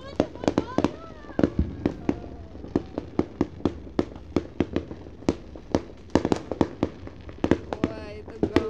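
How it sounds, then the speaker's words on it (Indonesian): Many firecrackers and fireworks set off together at a New Year celebration burst in a rapid, irregular string of sharp pops and bangs, loud and close, with people talking excitedly between the blasts. "Ini ada berapa petasan jadi satu."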